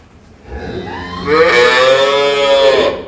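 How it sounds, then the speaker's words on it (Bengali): A calf on a dairy farm rearing improved-breed milk cows moos once in a long, loud, drawn-out call that swells and holds before fading, close by with no talking. "এখানে একটা বাছুর আছে"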